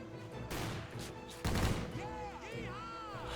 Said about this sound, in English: Throwing a couple grenades over this rock as there are a ton of enemies here.